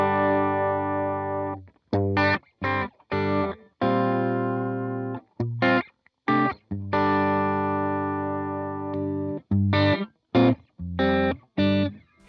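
Electric guitar plays through a Line 6 Helix modeling a Vox-style amp with drive, giving loud, slightly broken-up sustained chords and notes cut by short stops and choppy stabs, alone and close.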